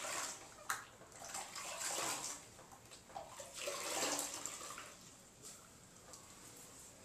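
A wet sponge is rinsed and swished in water during a restroom remodel, giving soft, continuous splashing and sloshing with a few sharper drips and splashes. It is moderately quiet, with no voices.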